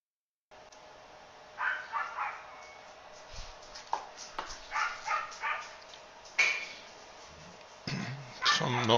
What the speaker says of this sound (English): Some dog noise as always.